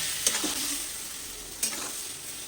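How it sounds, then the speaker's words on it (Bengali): Masala paste sautéed in a pan for a fish-head and cabbage curry, a steady close sizzle with two sharp utensil taps. "এখন মশলাটাকে কষতে হবে"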